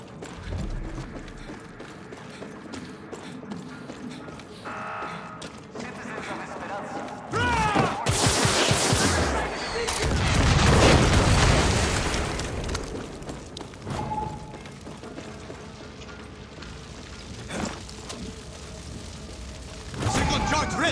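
Explosions set off as fireworks in Far Cry 6 burst loudly through the middle stretch, with sharp cracks and a rolling boom layered over steady game ambience and mechanical clatter.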